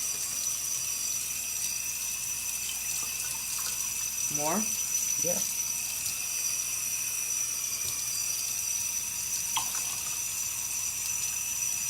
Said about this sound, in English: Lukewarm water.